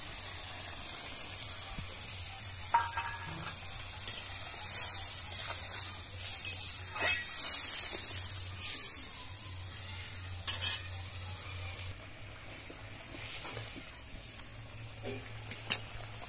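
Mustard paste going into a hot pan of pointed gourd and hilsa fish in a village kitchen, with soft steady sizzling, stirring, and occasional metal utensil clinks against the pan over a low hum.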